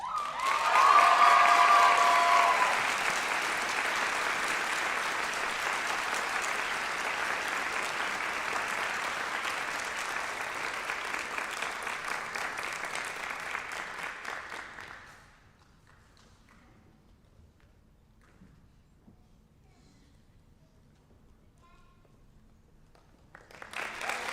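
Audience applause for award recipients at a college nursing pinning ceremony: loud sustained clapping from a large crowd for about fifteen seconds, then fading to near silence before a faint resurgence at the end.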